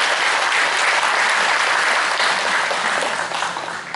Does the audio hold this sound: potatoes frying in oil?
no